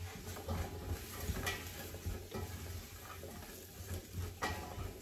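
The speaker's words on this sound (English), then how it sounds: "Give it a stir." A spoon stirs tomato, red pepper and lentil soup in a pot, giving soft scraping swishes and a quiet sizzle, fairly faint with no talking.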